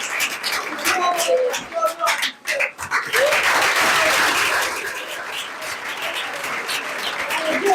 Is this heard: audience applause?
yes